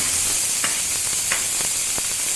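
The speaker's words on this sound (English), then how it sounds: "Now we will firstly add some onions. The pan is very heated." Onions hit a very hot pan and sizzle loudly and continuously, with a few sharper crackles and stirring scrapes popping through the steady hiss, close up and without talk.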